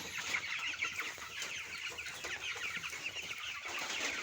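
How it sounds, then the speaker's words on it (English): Broiler chickens in a brooder cluck and murmur constantly as a flock, with overlapping soft calls and no speech. "So this is a particularly grown chicken."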